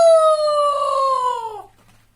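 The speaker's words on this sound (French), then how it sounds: "Le coq appelle toute la basse-cour." One loud, close rooster crow rings out as a single sustained call that slowly falls in pitch and cuts off after about a second and a half, followed by quiet.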